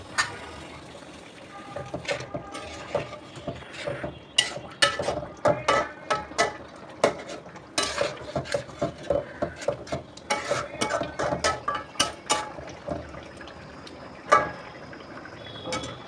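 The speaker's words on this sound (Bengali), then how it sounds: "এটা একটা বড় মাছ রান্না করছি রুই মাছ রুই মাছের সাথে একটু রুই মাছের তেল তেল আলু দিয়ে টমেটো দিয়ে রান্না করছি" Rui fish cooks in a pan with potatoes, tomato, fish oil and sour leaves while a utensil stirs and scrapes, giving irregular metallic clinks and taps, fairly close but soft.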